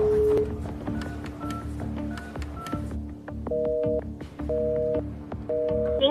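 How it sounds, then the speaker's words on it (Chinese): A telephone keypad dials a number, producing a brisk sequence of short, clear beeping tones in uneven groups, with quiet room noise in between. "我们要不要打这个电话试试啊"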